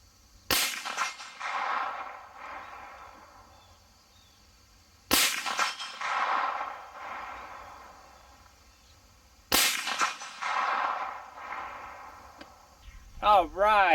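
Three loud rifle shots from a Hi-Point 10mm carbine at a 6-inch steel plate, spaced about four to five seconds apart, each ringing off into a long decaying tail, with a brief whirring sound at the very end.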